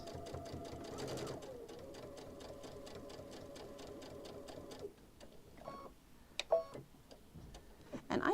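A sewing machine stitches a quarter-inch seam on a quilt, its needle running in a steady rapid mechanical clatter for about five seconds, close and moderately loud, then a few brief clicks and handling knocks.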